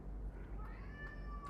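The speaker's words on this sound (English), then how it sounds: "my fur baby is meowing" A cat gives a single drawn-out meow indoors, rising then slowly falling in pitch, fairly faint over a low steady background hum.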